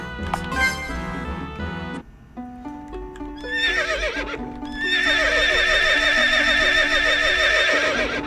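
A horse neighs in an RPG Maker video game, a loud chiptune-style whinny over game music, with clip-clop hooves and a shimmering, trilling melody rising in the second half.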